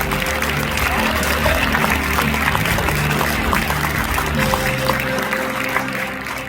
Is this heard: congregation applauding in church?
yes